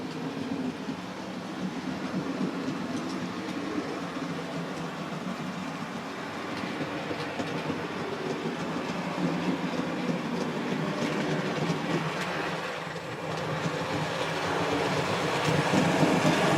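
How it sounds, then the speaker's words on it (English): A local passenger train rumbles past steadily with rhythmic clickety-clack of wheels over rail joints, growing slightly louder toward the end. "shortly we're waiting for the local passenger to arrive"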